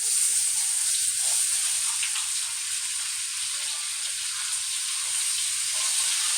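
Onions sizzle in a hot skillet with a steady, bright crackling hiss that stays even and close throughout, with no talking over it.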